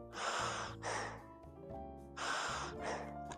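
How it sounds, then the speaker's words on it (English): Loud, heavy breaths drawn in and pushed out through a gas mask used for airsoft face protection, close and muffled, in slow repeated cycles with a hissing rasp on each breath. "you're breathing really loud. I'm just breathing normally right now."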